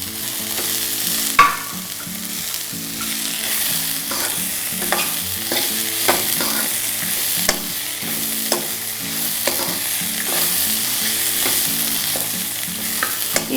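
Capsicum and mixed vegetables frying in a pan for a vegetable palya, a steady close sizzle broken by repeated scraping stirs and occasional light clinks, with no talking.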